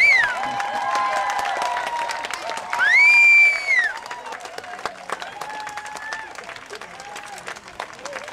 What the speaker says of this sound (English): The harder you cheer, the faster they go.